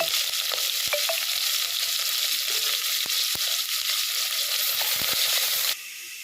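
Steady, loud sizzling of a chopped large onion and green chillies frying in hot oil, with occasional clicks and stirring scrapes, cutting off abruptly near the end.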